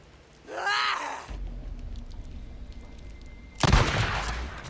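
Gunfire during a fight with raiders in Days Gone, heard as a noisy burst early on, then a loud, dense crack of shots near the end over a low, rumbling game background.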